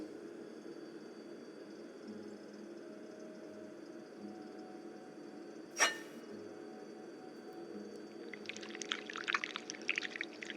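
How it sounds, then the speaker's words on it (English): Wax poured from a pot in the video game This Bed We Made, a faint hiss and trickle over quiet background hum, with a single sharp click midway and a louder splashy pour toward the end. "to start, we need to pour the wax from the pot"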